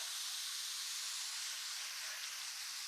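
Ghee poured into a pan of half-ripe papaya sizzles with a steady, loud, broadband hiss that holds evenly throughout, with no voices.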